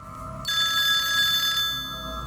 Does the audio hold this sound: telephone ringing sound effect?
yes